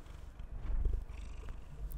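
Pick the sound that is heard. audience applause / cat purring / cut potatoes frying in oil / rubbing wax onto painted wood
cat purring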